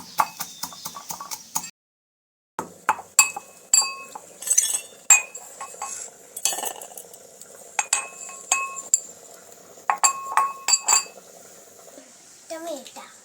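White sesame seeds, about a spoonful, pounded by hand, giving a string of sharp, irregular clinking knocks with a short pause near the start and steady tapping after it.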